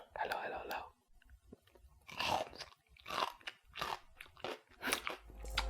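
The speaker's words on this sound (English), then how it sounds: "so we're trying these cucumbers doused in chili oil" Cucumbers doused in chili oil bitten and chewed up close, several distinct crisp crunches in bursts with pauses between, wet chewing in the gaps.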